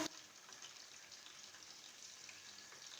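Chicken pieces frying in oil over a low flame give a steady, faint crackling hiss that runs evenly throughout, with no talking.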